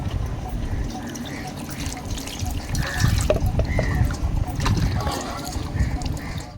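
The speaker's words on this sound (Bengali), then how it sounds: "আর আমরা এইভাবেই থালা বাসন ধুই।" Dishes and utensils are washed under running water in a village home, with a continuous splashing, trickling wash and occasional clinks of plates, while someone talks over it.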